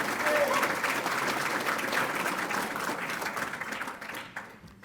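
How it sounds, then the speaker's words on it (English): Sustained audience applause fills a university athletics hall of fame ceremony for its 2025 inductee class, loud and steady before fading toward the end, with a faint voice underneath. "Let's have a quick round of applause for this unbelievably talented and successful 2025 class."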